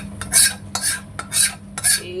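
Chicken being fried and stirred in a wok, with a utensil scraping and clattering against the pan in four regular bursts, fairly close and loud over a low steady sizzle.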